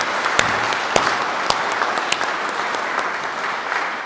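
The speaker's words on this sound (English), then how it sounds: "if you join me with a round of applause for all of them" An audience at a sustainability film award ceremony claps steadily throughout, a full, even round of applause from a crowd in an indoor hall with a few sharper individual claps standing out.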